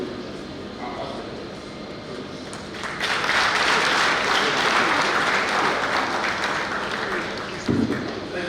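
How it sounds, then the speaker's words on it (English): At a memorial lecture, a room of listeners breaks into loud, full applause for the speakers, the clapping starting partway through and holding as a dense, continuous roar of hands to the end, with some talk before it. "I think the two last speakers deserve another round of applause"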